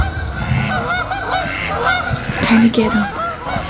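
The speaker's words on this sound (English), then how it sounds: "Do you hear the geese? I love the sound of the honkers in the winter." A flock of geese honking repeatedly nearby in winter, overlapping calls in a continuous chorus, with a brief spoken phrase underneath.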